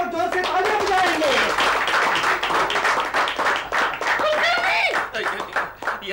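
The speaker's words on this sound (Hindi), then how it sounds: "इनके स्वागत में सब लोग जोर से तालियां बजाएंगे" Studio audience clapping loudly to welcome a guest on a Hindi TV comedy sitcom, brisk rapid claps running throughout while voices and talk continue over them.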